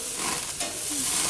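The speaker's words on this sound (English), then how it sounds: "we've been on the grill at close to 600 degrees for a total of 6 minutes" Beef Wellington searing on a grill at close to 600 degrees, giving a steady, dense sizzle that fills the whole moment with no voices.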